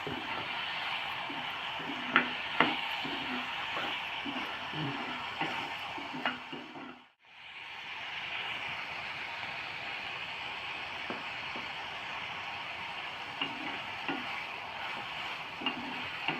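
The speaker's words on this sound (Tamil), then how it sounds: "எல்லாத்தையும் நல்லா மிளகாவெல்லாம் வதக்கணும் நல்லா பொன்னிறமாக வதக்கணும்" Vegetables, beans and chillies sautéing in a pan for samba wheat kichadi, a steady soft sizzle with occasional stirring clicks and a brief pause partway through; no talking.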